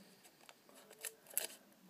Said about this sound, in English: my tape's a little messed up, so I have to cut it with scissors